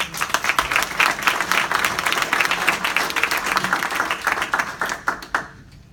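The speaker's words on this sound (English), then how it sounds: "could you just please stand up for a round of applause?" A round of applause at a real-estate awards event, with many people clapping in a lively, uneven patter that thins into a few scattered claps before stopping near the end.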